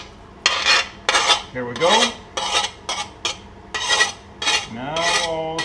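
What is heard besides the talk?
chicken added to fried onion and stirred in pan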